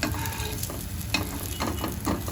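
Soya tikki frying crisp in a shallow pan with little oil, a dense continuous sizzle with brief scraping and flipping sounds, close and fairly loud, no talking.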